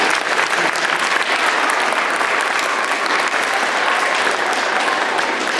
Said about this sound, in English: so a big round of applause for them.